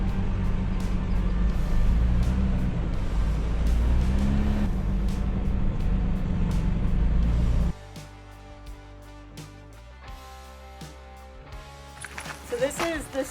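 A Toyota Tacoma creeps slowly along an off-road trophy truck course, a loud steady engine drone under talk that suddenly drops away to a quieter cabin, with clatter near the end.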